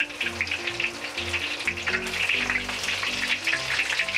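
Battered prawns deep-fry in oil over medium heat, a steady bubbling sizzle close by, with background music playing underneath.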